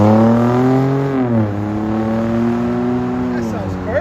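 A 2022 Chevy Colorado 3.6L V6 with a Magnaflow Magnapack and stock resonator, its exhaust giving a steady, close drone that drops in pitch partway through as the revs fall, then holds, with a faint rise near the end.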